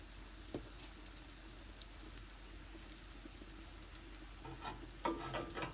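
Battered pickles frying in peanut oil on a Blackstone griddle, a steady close sizzle with soft crackles throughout and a brighter burst of spattering toward the end.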